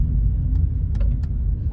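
Low, steady rumble of a car engine while driving, close and continuous, with a few faint clicks or clanks on top.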